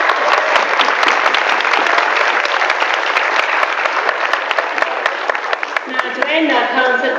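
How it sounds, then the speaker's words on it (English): An audience at an infant school play gives loud, dense, continuous applause that stays strong throughout, with a voice starting up near the end. "I think we should give them another big clap"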